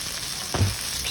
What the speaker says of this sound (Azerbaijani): Yağladığımız tavaya paxlanı tökürük. Yaxşı-yaxşı qabıqdan çıxana kimi qovururuq